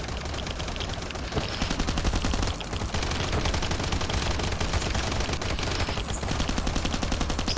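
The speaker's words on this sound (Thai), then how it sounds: "ยิงหุ่นยนต์ก่อนแล้วกัน" Sustained rapid gunfire in the survival video game Last Island of Survival, aimed at a robot, with dense, loud automatic bursts and overlapping shots continuing almost without pause.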